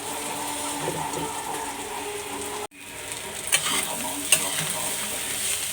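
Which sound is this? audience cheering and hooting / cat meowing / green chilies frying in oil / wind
green chilies frying in oil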